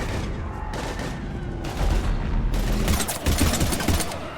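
Heavy gunfire in the Mass Effect 3 video game, a combat firefight against husks: dense bursts of shots and rattling fire roll on continuously and loudly, with no talking over them.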